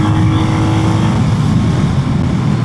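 A 2025 Royal Enfield Hunter 350 motorcycle riding on the road, its engine a loud, close, continuous drone with wind rush and no pauses.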